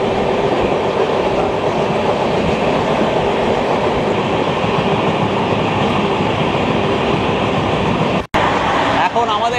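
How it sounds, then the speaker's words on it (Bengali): The 13053 Kulik Express, heard from a Vistadome coach, runs through a station on the Howrah–Bolpur line with a loud, steady rattle and rush of wheels on rails, broken by a brief sharp interruption near the end. "এখন আমাদের ট্রেন পেরুচ্ছে দেবীপুর স্টেশন"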